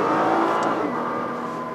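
A Nissan GT-R accelerates hard, its engine roaring loudly and steadily with a brief change in tone as it shifts gears, heard up close with no talking.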